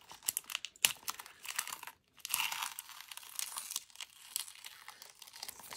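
Paper crinkles and tears as the cover is ripped off a thrifted book, a close run of crackling, uneven tearing with a brief pause partway through, no voices.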